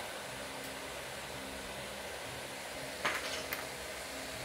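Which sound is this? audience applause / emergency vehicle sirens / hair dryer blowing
hair dryer blowing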